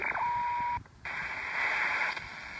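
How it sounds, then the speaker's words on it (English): Hissy shortwave radio static outdoors, tuning downward from 25000, with a steady whistling tone that cuts out, a brief dropout, then a brighter band of noisy signal as the dial moves. "So I tune 25000, and I say I'm going to tune downwards from there"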